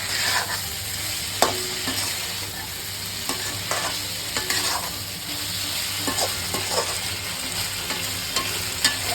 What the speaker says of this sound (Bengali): তেজপাতা, গোটা গরম মশলা, এটা দিয়ে ভালো করে নাড়াচাড়া করে দিলাম।